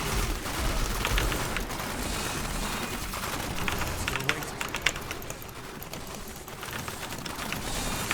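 Dense, continuous crackling blasts and bursts from Diablo 3 combat with a Hardcore Demon Hunter, loud and layered with rapid overlapping impacts and rumbling, no pause across the stretch.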